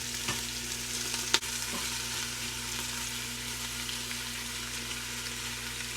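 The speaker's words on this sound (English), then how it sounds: "We're going to get some flavor going by searing that sausage" Sausage searing in oil in an Instant Pot for red beans and rice, a steady close sizzle with a low electrical hum beneath and a single sharp clatter partway through.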